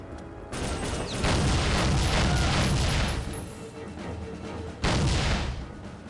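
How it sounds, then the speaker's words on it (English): Heavy gunfire in Soldier of Fortune sounds as loud, dense bursts of shots with booming impacts, pausing briefly and then firing again up close. "So I'll have to shoot it from the other side."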